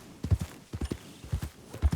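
Hooves of a Dutch Warmblood horse in Red Dead Redemption 2 clip-clop off the beaten path in a steady walking rhythm, paired thuds repeating close and clear with no talk over them.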